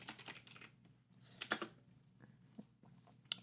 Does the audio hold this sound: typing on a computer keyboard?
yes